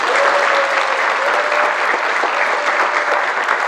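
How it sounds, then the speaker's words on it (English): An audience at a martial arts academy event claps loudly and continuously, dense applause from a crowd that fills the room for several seconds. "Give him a round of applause."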